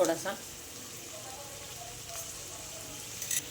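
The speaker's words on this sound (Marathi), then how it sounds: "एकदम छान परतवून घ्यायचं आहे 2 ते 3 मिनिटं" Chilli paneer sautéing in a pan with a soft, steady sizzle and occasional stirring scrapes, punctuated by brief louder clatters, with a voice talking faintly alongside.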